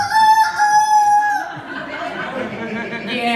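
A rooster crows loudly and close by, one drawn-out cock-a-doodle-doo that breaks off into softer clucking and chortling sounds.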